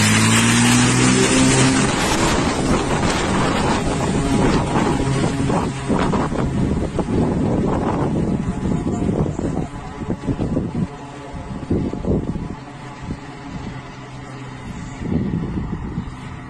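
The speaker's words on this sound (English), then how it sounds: "This plane picking up water to extinguish fires with." A firefighting plane skims a lake to scoop water, loud engine roar and wind rush at first, then churning splashes and bursts of spray as the roar eases.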